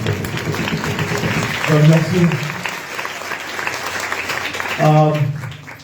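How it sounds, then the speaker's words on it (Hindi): Applause from a congregation at a Sunday church worship service in Lahore runs throughout, with talking layered over it and chanted voices rising briefly twice. "जोरदार तालियां"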